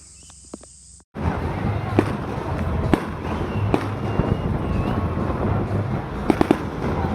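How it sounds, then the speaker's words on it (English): Faint pops and crackles of city fireworks heard from a distant campsite, scattered over a constant wash of outdoor noise, sounding far away, with occasional sharper bangs. "I watched the fireworks that were going off in the distance from the city."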